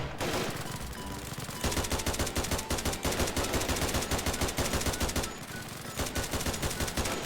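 Rapid automatic gunfire from a weapon being test-fired in the Roblox Squid Game, loud dense bursts rattling almost without pause, with a brief lull partway through before the firing resumes.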